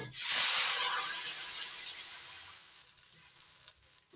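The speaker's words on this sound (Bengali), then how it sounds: "এবার দিয়ে দিচ্ছি পরিমাণ মতো জল" Water is poured into a hot pan of oil with turmeric and chilli powder, giving a loud, sudden hissing sizzle that slowly fades into a softer, steady bubbling.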